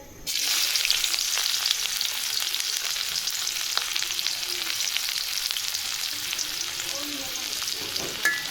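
A poa fish curry fries in a pan with a loud, steady sizzle that begins abruptly, with faint stirring and no talk.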